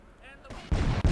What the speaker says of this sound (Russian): вот это взрыв!